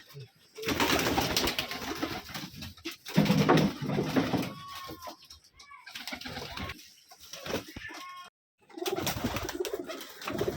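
Giribaz pigeons coo in a loft in Rajshahi, with repeated soft, throaty calls close by, and someone talks at intervals between and over them.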